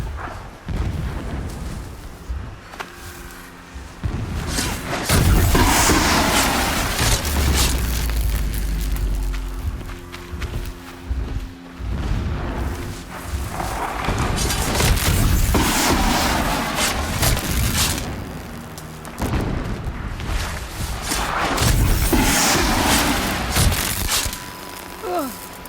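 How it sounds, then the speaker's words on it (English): Distant explosions and heavy booms in the Horizon Zero Dawn video game, rolling blasts and rumbling impacts that come and go over a continuous noisy battle backdrop. "explosions in the distance. Pay that no mind."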